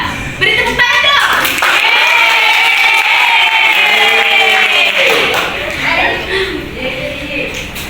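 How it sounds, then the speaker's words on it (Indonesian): Students in a classroom clap and cheer for a teacher, brisk clapping mixed with loud overlapping voices and whoops, tapering off toward the end. "Beri tepuk tangan dong."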